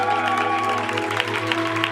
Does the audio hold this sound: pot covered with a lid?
no